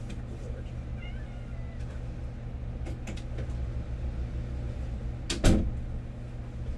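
A large house cat meowing indoors, a few short faint cries under low room noise, followed by a sharp knock like a door or cupboard closing.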